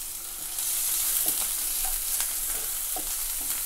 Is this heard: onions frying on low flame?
yes